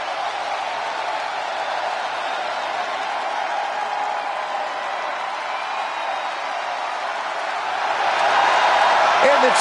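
Steady roar of an arena crowd cheering in the wrestling video game WWE 2K24 during an NXT match, constant and broad, swelling louder near the end.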